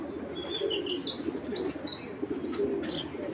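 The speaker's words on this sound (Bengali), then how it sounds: "এটা হলো গাংচিল কবুতর, পাকিস্তানি, অরিজিনাল পাকিস্তানি গাংচিল" An original Pakistani Gangchil pigeon coos in low, steady, rolling calls, close and continuous, with a few higher chirps from other birds over a constant background hum.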